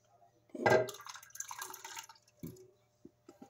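Water pours and splashes while rice noodles are being prepared, a brief gush followed by trickling and scattered drips in a quiet room.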